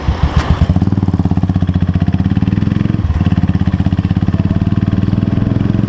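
Royal Enfield Continental GT motorcycle engine running close by with a loud, steady thumping beat, one short blip of revs near the start and a brief dip midway, with no voices.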